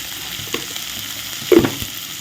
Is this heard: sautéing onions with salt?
yes